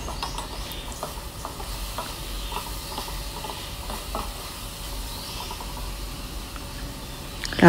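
Rice stir-fried with Chinese sausage makes a steady low sizzle and hiss, with light intermittent taps and scrapes of a spatula against the pan, ending in a brief louder knock.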